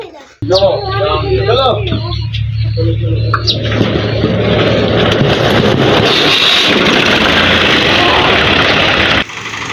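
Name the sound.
tractor engine started and idling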